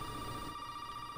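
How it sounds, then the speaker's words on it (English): A telephone in Resident Evil 7 gives off a steady electronic ring tone, a sustained even buzz with no break across the brief moment, heard without any voices. "Someone's calling on the phone."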